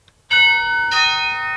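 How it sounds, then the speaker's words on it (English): A smart-home doorbell chimes twice, two bright ringing tones in quick succession, the second struck about half a second after the first, loud and close with a lingering ring and no speech. "Another example I've got is the doorbell,"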